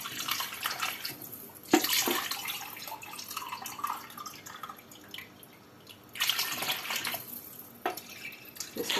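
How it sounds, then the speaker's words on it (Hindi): Water pours steadily into a cooking pot for beef pulao, a running splashing stream that swells louder near the start and again later, heard alone without talk. "कितना पानी डाल रहे हो?"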